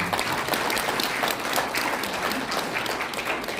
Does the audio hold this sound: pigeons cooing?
no